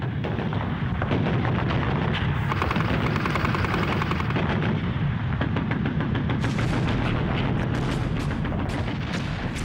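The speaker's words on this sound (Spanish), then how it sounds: "cayó sobre ellos una intensa descarga de fuego. La isla estaba plagada de nidos de ametralladoras fortificados." Heavy gunfire from fortified machine gun nests in WWII island combat footage, a dense, loud, unbroken barrage of booms and rapid shots.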